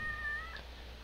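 A ghost cat in the Fishing Planet Halloween event gives one short, drawn-out meow that rises and then fades, faint over a low steady hum.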